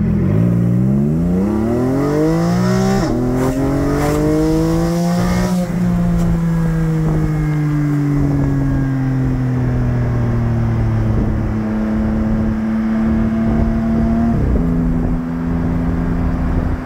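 Porsche 718 Cayman GT4 in Racing Yellow with a Cargraphics exhaust and its valves open pulls away in low gear, a loud close engine howl rising through quick upshifts, then settling into a steady drone.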